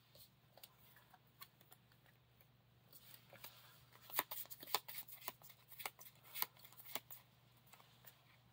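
Playing cards for the Lord of the Rings card game being shuffled on a table: soft riffling bursts with crisp snaps that grow louder and denser in the second half, no talk, over a steady low hum.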